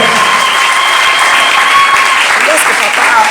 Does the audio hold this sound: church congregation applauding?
yes